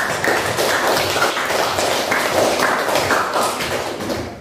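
Audience applause for a group's classroom presentation in a teacher-training session, a steady dense wash of clapping held at an even level throughout, with no voices over it.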